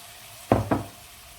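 Peas tipped into a pan of frying meatballs, giving two quick loud sizzling bursts over a steady background hiss, close and without talk.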